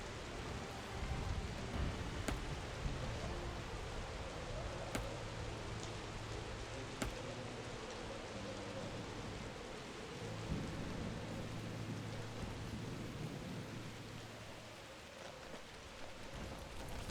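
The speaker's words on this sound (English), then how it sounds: "Another storm was brewing." A rainstorm in the video game Dungeons 4 hisses steadily as continuous rain, with low rumbles and soft tonal hum underneath and a few sharp crackling accents scattered throughout.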